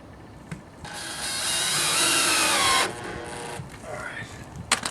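Power drill driving a screw into an exterior outlet box on a stuccoed new-construction wall: one loud, close whirring burst lasting about two seconds, followed by faint handling clicks.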